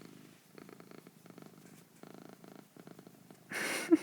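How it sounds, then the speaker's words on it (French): A cat purrs softly while lying on a person's lap, a low steady rumble close to the microphone, briefly rising louder near the end. "mon chat est sur mes genoux et ronronne"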